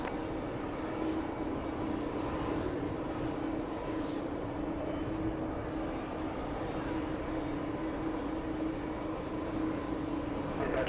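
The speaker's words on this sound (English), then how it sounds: "I'm hearing some engines here." Aircraft engines at an airport, a steady faint broadband whine and hum droning continuously in the distance.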